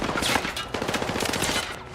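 Battlefield 6 campaign combat with sustained rapid automatic gunfire, a dense crackling burst of overlapping shots filling the whole moment, loud and continuous before a brief dip at the end.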